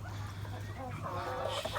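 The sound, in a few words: hen clucking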